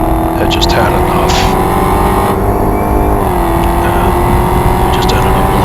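A Dodge Hellcat and a blue Corvette blast past on a race track, a loud, sustained engine roar whose pitch climbs and then dips slightly as they go by.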